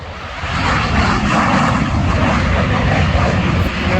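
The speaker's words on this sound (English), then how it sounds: "That is a Harrier jump jet." A loud, roaring Harrier jump jet engine at takeoff fills the air with a broad, continuous rumble that swells early and holds steady, close by and overpowering.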